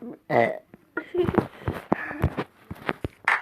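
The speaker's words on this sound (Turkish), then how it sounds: "Biraz geğireyim arkadaşlar ben bu hayatta" A man makes a loud, short burp and then keeps talking, with his voice filling the rest of the moment.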